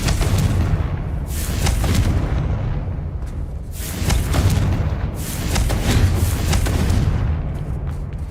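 Confringo blasting spells in Hogwarts Legacy explode in repeated heavy booms, loud deep blasts rolling one into the next across several seconds with no talk.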